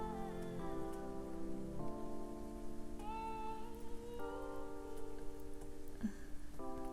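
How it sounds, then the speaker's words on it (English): Rain falls in a steady, soft patter throughout, running as a constant backdrop beneath gentle melodic music. "I hope the rain is providing some super sweet ASMR for you guys."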